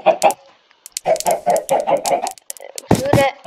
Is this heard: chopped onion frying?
no